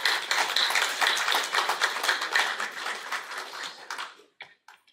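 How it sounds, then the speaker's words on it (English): An audience at a maritime studies seminar in Goa applauds a speaker receiving a memento: dense, even clapping from many hands for about four seconds, then it breaks off with a few stray claps. "Please put your hands together."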